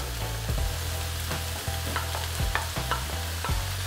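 Peppers sizzle and fry in a pan with steady crackling, broken by several sharp scrapes and knocks of stirring spaced about a second apart, close and fairly loud with no voices.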